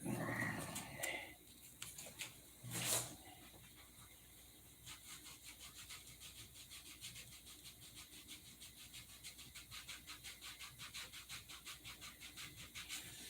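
Hand sanding over a painted dope surface gives a rhythmic, soft scratchy rasp, steady back-and-forth strokes growing more regular in the second half, faint and close, after a few louder knocks and handling sounds at the start.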